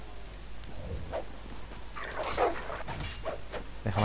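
A dog in a Game of Thrones video game barks and whimpers in short yips and whines over a low background hum, with several brief outbursts spread across the moment and no talking.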